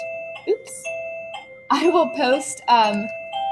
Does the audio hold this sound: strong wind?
no